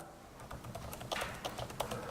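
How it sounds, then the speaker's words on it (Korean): Someone typing on a special computer keyboard, with quiet, close key clicks in an uneven rhythm and a few sharper taps, soft and alone. "제가 오늘 제가 쓰는 스페셜 키보드를 갖고 이제 쓰겠습니다"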